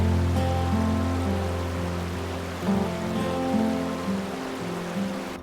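A forest river at dusk flows in a constant broad wash of water, steady and fairly close, with faint tonal hum layered underneath and no voices.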